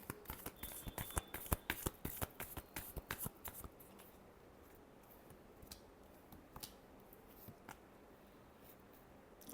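Tarot deck being shuffled by hand, a quick run of crisp riffling card flicks and taps that thins out into a few sparse, softer shuffles, close and quiet with no talk.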